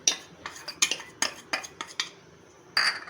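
A spoon clinks and scrapes against a bowl while cornflour is mixed into milk for a seviyan custard dessert. The sharp metallic taps come in an irregular series of close, clear strikes with no talking.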